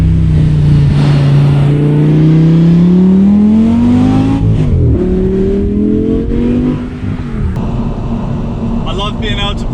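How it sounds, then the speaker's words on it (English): An Audi R8 V10 engine revs and accelerates loudly and steadily from inside the car, its pitch rising and dipping through gear changes, with a brief voice near the end. "You get all the sounds of the engine with hardly any of the wind."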